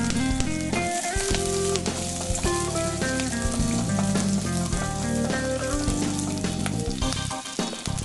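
Chopped green chili hits hot oil already tempered with urad dal and chana dal, for spicy barnyard millet kozhukattai, giving a steady close sizzle throughout, with tonal music running beneath it.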